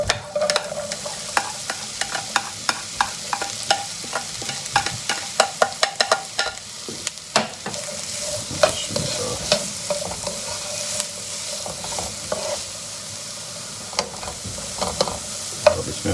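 Chopped onions fry in hot olive oil with a constant sizzling hiss, while a spoon repeatedly clacks and scrapes against the pan in an irregular stirring rhythm, close and fairly loud with no speech.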